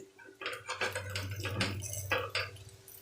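A metal spoon turns semolina (suji) appe in an appe pan, making a quick run of close clinks and scrapes against the metal.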